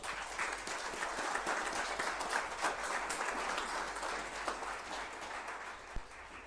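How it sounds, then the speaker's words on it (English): Audience applause at a city council inauguration ceremony at City Hall, a sustained, even wash of many hands clapping throughout, fairly distant in a large room. "let's have a big round of applause for everyone who supported us on this journey to City Hall"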